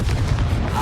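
A Confringo fire-blast spell cast in Hogwarts Legacy, a loud, dense, rumbling burst with a heavy low-end boom that fills the whole short moment.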